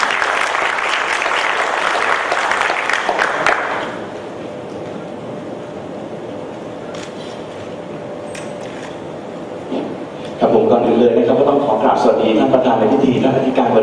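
Applause from a seminar audience welcoming the speakers at a Bangkok University business innovation event, a loud dense clatter of clapping for the first few seconds before it fades into quieter room noise and then speech.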